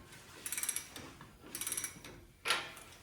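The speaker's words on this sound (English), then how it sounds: "So I'm just going to go ahead and tighten everything down" Bolts on a sixth-generation Ford Bronco rear axle being tightened with a regular wrench during an axle swap: two quick bursts of rapid metallic clicks, then a sharper single clank, close and fairly loud with no talk.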